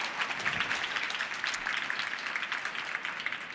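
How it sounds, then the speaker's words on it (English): Audience applause in an atrium at a World Bank–IMF Spring Meetings panel on women entrepreneurs, a steady wash of many hands clapping at moderate volume, no voices over it. "give opportunities for a round of applause"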